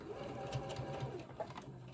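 A sewing machine stitches a mini tote bag, its quiet rapid mechanical whirr running steadily for a couple of seconds at low volume, close by.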